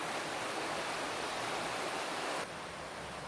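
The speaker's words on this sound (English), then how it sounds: "Nice brook running right straight behind the whole camp spot." A brook runs behind a campsite along the Clackamas River in Oregon, a steady close rushing wash of water that stays constant throughout, with no voices.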